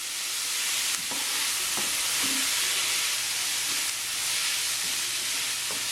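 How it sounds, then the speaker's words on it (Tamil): Beetroot mixture stir-frying in a pan, a steady close sizzle with occasional soft scrapes and knocks of the spoon as it is turned. "இதை நாங்கள் கிளறி வறுத்தெடுப்போம்."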